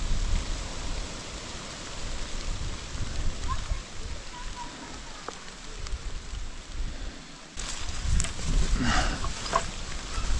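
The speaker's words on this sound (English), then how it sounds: "Wind." Wind roaring across a property during a big thunderstorm: a steady, dense broadband rush that swells into louder gusts near the end, with no talking.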